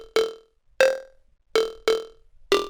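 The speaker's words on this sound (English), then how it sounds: "I made the delay time really, really low" A short vocal-like stab in a beat is treated with a very short delay, so each of the five hits smears into a quick buzzing flutter, spaced irregularly and alone.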